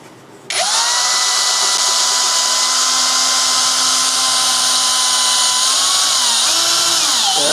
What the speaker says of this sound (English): How do you want to drill that hole?